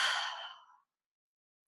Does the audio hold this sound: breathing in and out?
yes